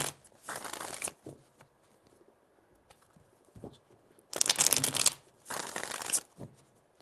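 Tarot cards shuffled in a few quick riffling bursts, crisp papery flutters with short pauses between them, close and alone.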